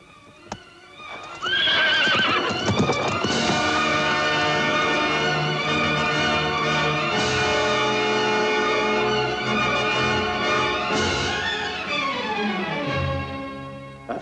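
A horse neighs loudly and at length, with clip-clopping hooves beneath it, heard close and continuous through most of the scene in a 1976 Beauty and the Beast film, with no talking.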